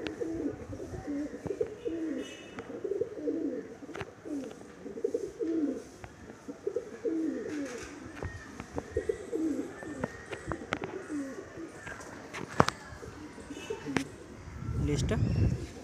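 Madrasi pigeons coo in soft, repeated throaty phrases close by, broken up by clicks and handling noises, while someone talks over them.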